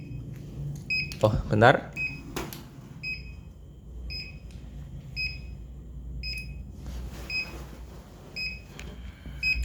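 A buzzer on an ultrasonic distance sensor setup emits short, evenly spaced beeps that speed up as an object moves closer, with brief talk near the start and beeping continuing clearly in the foreground.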